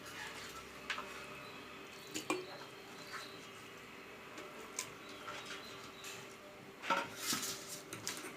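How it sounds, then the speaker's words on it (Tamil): Pieces of mutton being put into a cooking pot for mutton thalsha, heard as a few soft clinks and clatters of metal over a steady background hiss, with no voices. "இப்போ மட்டனை போடுறோம்."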